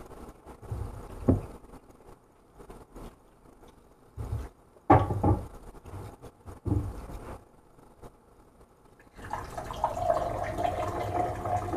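Water runs out of a tap during a meal at home, coming in uneven bursts and splashes with quiet gaps between, then settling into a steadier gushing flow near the end.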